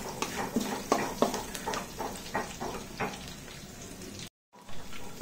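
Onions fry in oil with cardamom and cloves for cashew paneer fried rice, giving a moderate, close sizzle with stirring clicks and scrapes and one brief silent gap, without talk.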